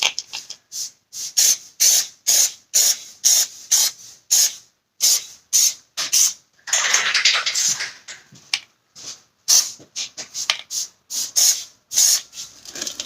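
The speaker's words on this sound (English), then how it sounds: "So I'm going to do a test spray, make sure it's coming out okay" Short hissing bursts from a Plasti Dip aerosol spray can used on Toyota Tundra badges, a rapid irregular series of sprays with one longer continuous spray in the middle, close and crisp.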